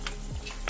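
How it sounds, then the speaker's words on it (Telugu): Vadiyalu, sun-dried fritters, frying in hot oil in a home kitchen, giving a steady close sizzle with soft stirring scrapes and a couple of brief brighter crackles, no voices. "వడియాలు చూసారా వేగిపోతున్నాయి"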